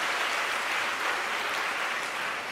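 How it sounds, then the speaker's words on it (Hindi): Steady, dense applause from an audience after a stage play, sustained throughout without pause or voices. "फिर से जोरदार तालियां इस नाटिका के लिए।"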